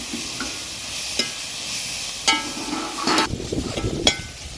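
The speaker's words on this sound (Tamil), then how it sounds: "கீரை நல்லா வதக்கிட்டேன்" Black nightshade greens (manathakkali keerai) sauté in a pan with a soft, steady sizzle, broken by several sharp clinks and scrapes of a stirring spoon against the metal.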